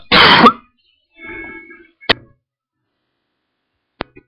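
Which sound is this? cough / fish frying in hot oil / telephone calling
cough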